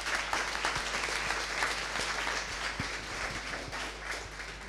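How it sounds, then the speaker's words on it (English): Audience applause at a Nix software conference, a dense, steady wash of many hands clapping for several seconds before easing slightly, with no voices over it. "give him a round of applause and enjoy the talk."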